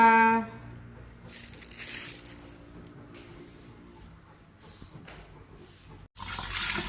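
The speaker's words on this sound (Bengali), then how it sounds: "এই যে মাছগুলো একটু ধুই" Fish are rinsed under running water, with a continuous moderate splash and trickle broken by soft handling noises and a brief pause near the end.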